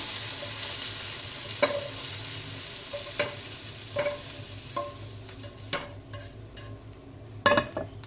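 Chicken pieces being fried for restaurant-style chicken egg fried rice crackle in a pan under a hissing sizzle, with scattered spatula knocks and scrapes growing busier toward the end, close and quiet, no speech.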